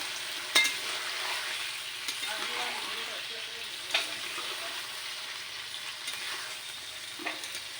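Chicken masala sizzles and crackles steadily in a pan for a home-style chicken gravy, close by, with a few sharp scraping stirs and spoon knocks against the pan breaking through the constant frying hiss.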